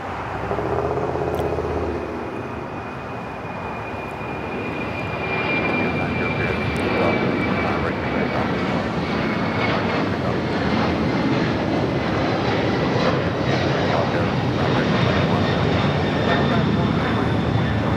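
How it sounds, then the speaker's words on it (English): A Boeing 767 jet takes off from LAX, its engines roaring loud and steady throughout, swelling slightly partway through and sustained at full power with a thin high whine on top. "LAX 1650 taking off to Indianapolis on a 767 named Zareen"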